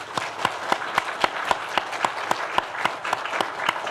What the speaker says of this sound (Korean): 우리 축복과 격려의 박수를 한번 드리겠습니다.